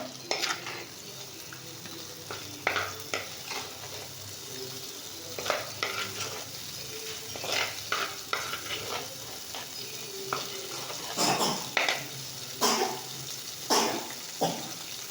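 Garlic sautéing in hot oil in a pan for a Tamil garlic thokku, with a steady soft sizzle broken by repeated clinks and scrapes of a spoon stirring, close and fairly quiet, no talking.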